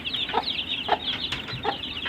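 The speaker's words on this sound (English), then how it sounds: "We got to show you Henny Hen with our chicks" A hen and her clutch of chicks, with soft repeated clucks from the hen under a constant, busy chorus of high peeping from the chicks, close and moderately quiet.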